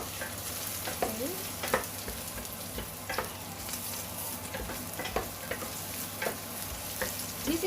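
Mussels and ginger are stir-fried in a pan, with a steady sizzle throughout and repeated sharp scraping and clacking from stirring, close and fairly quiet with no talk.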